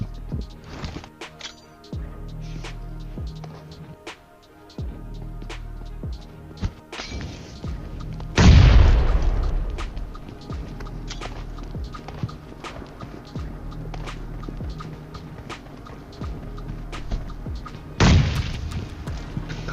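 Grenade explosions in a video game: two heavy booms, one near the middle and one near the end, over a busy background of gunfire-like knocks and game noise.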